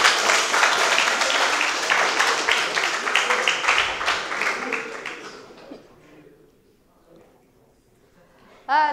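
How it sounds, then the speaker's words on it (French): Audience applause at a student eloquence contest, a lively burst of many hands clapping for about five seconds that then fades out, followed by near silence and a short voice at the end. "applaudissez-les aussi"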